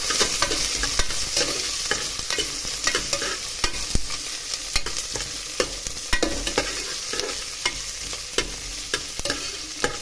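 Onions frying in a pan for a snake gourd pulao, a steady broadband sizzle with frequent sharp scrapes and clinks of a spatula stirring, close and loud, no voices.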